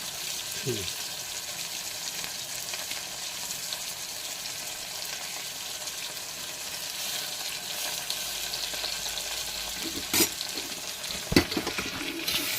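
Rice ingredients fry in a pan with a steady, even sizzle through the whole stretch, and a few faint clinks and scrapes of stirring break in near the end.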